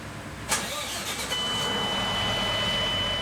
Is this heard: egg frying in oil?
no